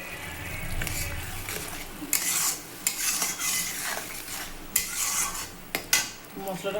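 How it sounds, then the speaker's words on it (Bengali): Spice paste with turmeric and salt being stirred and fried in a pan for a Bengali pabda fish curry: close scraping strokes of a spatula with sharp metallic knocks against the pan over a soft sizzle. "মশলাটা কষাবো, তারপরে আসছি।"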